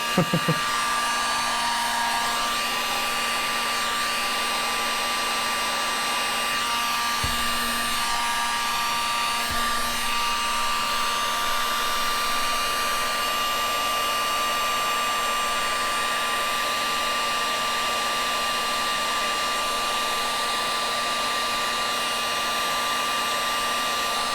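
A heat gun runs steadily the whole time, giving a loud, continuous airy roar and hiss with no breaks and no talking over it.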